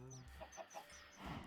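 Chickens clucking in the video game Minecraft, several short, soft clucks in a loose uneven rhythm over a low steady background, no talk.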